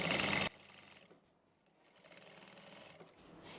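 A sewing machine stitching the hem of a Haryanvi daman skirt runs in one brief, loud, rapid burst, then drops to a quiet stretch of low room noise with a faint voice.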